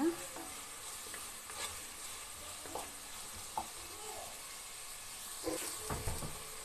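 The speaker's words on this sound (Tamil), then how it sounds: "இப்போ இது எல்லாத்தையும் நல்லா பச்சை வாசனை போகிற வரைக்கும் நல்லா ஃப்ரை பண்ணிக்கலாம்." Onions and spices fry in a pan for paneer biryani, giving a quiet, steady sizzle broken by a few scraping knocks of a stirring spoon; no one speaks.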